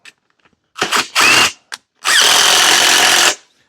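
Power tool driving down the head bolts on a Briggs and Stratton small engine during a rebuild: a few short bursts followed by one longer whirring run, loud and close.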